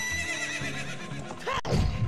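A horse in Zelda: Ocarina of Time gives one loud, close whinny that falls into a snort, heard over steady game music with no talking.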